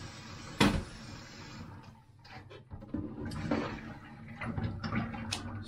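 Water is splashed and rinsed out of a plate in a home kitchen, with a sharp splash followed by irregular sloshing, clattering and running-water sounds close by.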